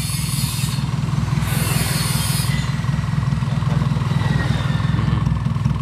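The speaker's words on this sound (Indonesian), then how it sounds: "ini knalpot tak dekatkan sama kamera, jadi nanti bisa mendeteksi dari suara knalpotnya" A Toyota Kijang 5K engine idles steadily at its exhaust right after a carburetor service, recorded close up, with an even, continuous low rumble throughout and no talking.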